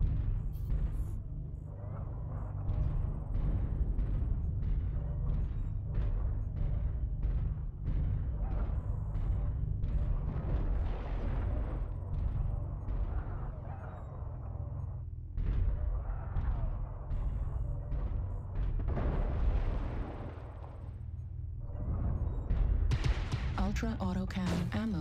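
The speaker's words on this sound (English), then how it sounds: "Ammo explosion detected." Explosions and heavy weapon fire from a Blood Asp-A battlemech in MechWarrior Online, with an ammunition explosion, rumbling continuously and loudly throughout under speech-like game announcements.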